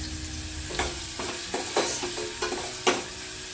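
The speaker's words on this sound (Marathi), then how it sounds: "आता हा जो पिठीचा चमचा आहे त्याने मी थोडा एकत्र करून घेणार आहे" A spoon stirs a kulith (horse gram) flour paste mixture in a pan, making soft scraping strokes and a few sharper knocks over a low, steady sizzle.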